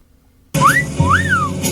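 A person whistles two rising-and-falling notes, clear and close, after a brief silence.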